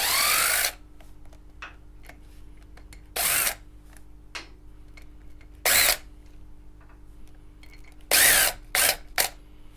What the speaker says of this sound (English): I'll just nip them up with a drill first